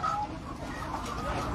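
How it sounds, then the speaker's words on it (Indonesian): Laying hens clucking on a poultry farm, a steady, close, dense chatter of many birds with no one speaking. "Itu ayam layar ya"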